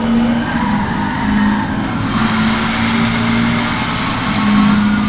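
Constant engine drone with tire squeal from a racing simulator video game, the car sound continuous and fairly loud throughout with no talking.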